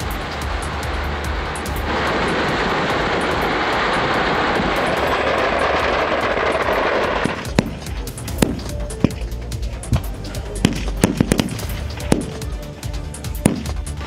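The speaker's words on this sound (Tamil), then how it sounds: "பட்டாசுகள் தொடர்ந்து வெடித்துக் கொண்டே இருந்தன." A dense, roaring rush of sound gives way to a rapid, irregular series of sharp cracks and pops, with loud bangs scattered among them.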